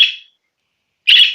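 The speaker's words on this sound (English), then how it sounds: "Ooh, you've started squawking." Pet budgie squawking: two sharp, shrill calls close to the microphone, separated by a second of silence.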